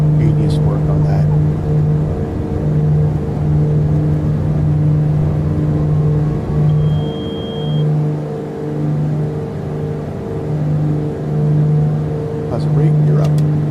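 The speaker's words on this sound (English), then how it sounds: "Oh man, I can't get over those engine sounds." Twin piston engines of a Beech B60 Duke in Microsoft Flight Simulator 2020 hold a loud, steady droning hum with a pulsing low throb throughout, and a faint voice murmurs underneath.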